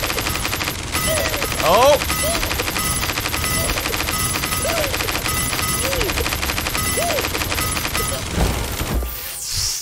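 The Gatekeeper weapon fires rapidly in a video game, a dense, loud, continuous stream of shots with impact and shattering sounds, a brief exclamation from a man near the start, then an abrupt cutoff at the end.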